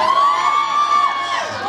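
Children in a comedy show audience hoot and cheer together, a sustained bright crowd whoop rising and falling over about two seconds, loud and close.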